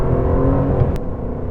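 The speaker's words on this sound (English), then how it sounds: "There's plenty of engine noise from a very, very powerful 4-litre V8" A powerful 4-litre V8 engine drones steadily under loud road and tyre noise on a wet road, heard from inside the cabin, with a brief sharp click near the end.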